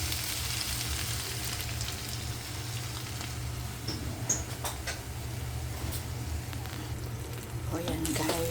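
An egg sizzles in a pan with ampalaya, ham and bangus sisig, a steady frying hiss with occasional crackles and stirring clinks, heard under a person talking.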